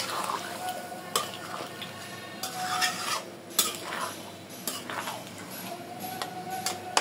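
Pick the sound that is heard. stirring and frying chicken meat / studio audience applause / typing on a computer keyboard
stirring and frying chicken meat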